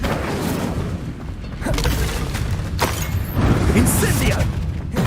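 The Incendio fire spell is cast in Hogwarts Legacy, a loud, steady rushing roar with booming bursts and crackling, mechanical clatter that runs for several seconds at close range.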